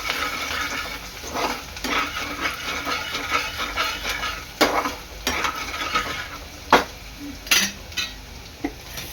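Garlic, ginger and green chili sauté in hot oil for soybean fried rice, a continuous sizzle under repeated scraping and clinking of a spatula against the pan, loud and close.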